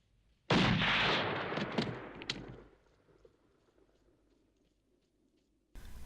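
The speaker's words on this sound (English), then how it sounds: "and Ali shoots him dead" A gunshot from the film Lawrence of Arabia, a single loud broadband crack followed by a long decaying rumble and echo across open desert, with no talk.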